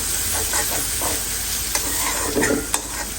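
Onions frying in a pan and being stirred, a loud continuous sizzle with scattered scraping and clinking of the spatula near the end, close and without speech.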